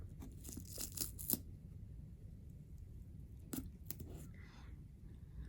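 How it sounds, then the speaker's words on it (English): Strips of tape torn off a roll to tape down eyelashes during a lash extension job, with a few short, faint ripping bursts in a quiet room, two close together early on and another a couple of seconds later. "I'm going to tape down Yodi J's lashes"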